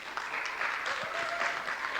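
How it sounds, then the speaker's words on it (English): Audience at an outdoor community awareness-day gathering giving a round of applause, a steady wash of clapping close by, with a faint voice underneath. "give a round of applause for George."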